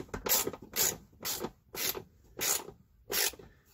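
Ratcheting on a fastener of a plastic Thetford toilet base in a 2018 Keystone Outback RV, six quick clicking bursts in a steady rhythm, close and fairly loud.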